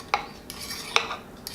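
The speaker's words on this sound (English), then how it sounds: "I have 3 bananas mashed, and I'm going to go ahead and add that in right now to my dry mixture" Mashed bananas being mixed into a dry flour mixture in a bowl, heard as a few quick utensil taps and scrapes about once every half second, close and soft.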